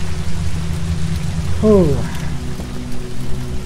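Steady rain falls across a castle area in the video game Infernium, a continuous wash of drops under a short exhaled breath from a nearby voice.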